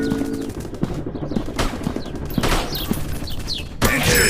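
Rapid bursts of gunfire from a first-person shooter game, shots cracking in quick irregular volleys with a dense music or effects bed underneath and a louder burst near the end.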